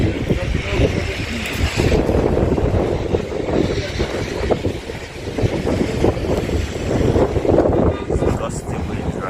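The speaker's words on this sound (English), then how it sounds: "Gusty wind right now. Picking up speed, guys." Gusty wind in downtown Brooklyn at the start of a record-breaking New York snowstorm blizzard, a steady rushing roar that swells and eases in waves and buffets the microphone.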